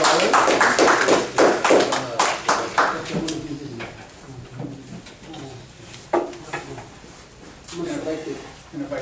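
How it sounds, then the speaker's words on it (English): An audience at a Toastmasters meeting bursts into dense, close clapping that thins out after a few seconds into scattered claps, with people talking over and after it. "Give Adolfo a big round of applause"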